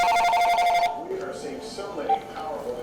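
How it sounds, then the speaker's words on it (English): Telephone bell ringing in a home kitchen, a loud repeated electronic ring for about a second before it stops and a voice speaks. "the phone rang."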